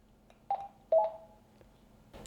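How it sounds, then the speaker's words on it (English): A few short electronic beeps from a Rocky Talkie walkie-talkie's push-to-talk button, two clearer tones among faint clicks, close and quiet with no talking. "the push to talk button, which can also be used to turn off the beep"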